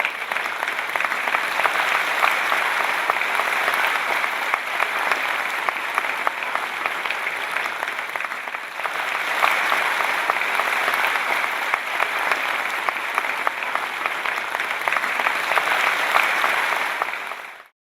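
Long, steady applause from a large audience at a Dhamma Vijay Divas gathering in Delhi, dense continuous clapping with a brief dip midway before swelling again and cutting off.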